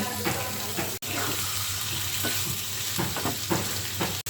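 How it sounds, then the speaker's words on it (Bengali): Onion frying in oil in a pan for liver bhuna gives a continuous hissing sizzle with several stirring scrapes and brief clatters, recorded close with no speech and two abrupt cuts. "এখানে পেঁয়াজ দিলাম তেল দিলাম ভাজি করে নিলাম"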